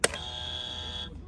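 A single sharp electronic game show buzzer tone sounds after a brief click, holding steady for about a second before cutting off.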